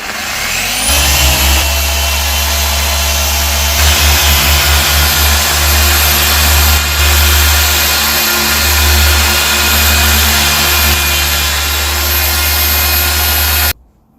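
Rotary car polisher with a small 3-inch pad cutting the paint on a new Tesla Model 3, a loud, steady motor whine with a strong low hum running continuously and alone, its pitch wavering slightly under load before cutting off abruptly.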